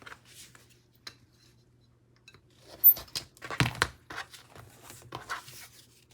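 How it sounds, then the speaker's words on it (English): Vinyl sheet being cut into a strip with scissors for a sewing project, giving a few sharp snipping and crinkling bursts around the middle of a quiet stretch, close by. "So I'm just going to cut this piece off."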